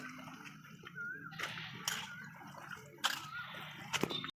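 Water sloshes and splashes as potato slices are swished and rinsed in alum water, with intermittent drips and a few sharper knocks.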